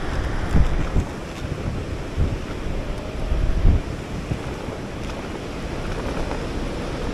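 Steady wind buffets the microphone while riding an E-twow Booster V waterproof electric scooter in the city, a loud continuous rumble with gusty swells.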